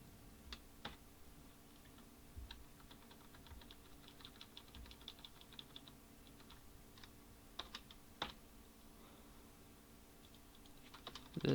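Keys clatter on a computer keyboard as a multi-line code comment is typed, quiet, scattered clicks and taps at an uneven pace over a steady faint background hum, with a slightly louder tap at the very end.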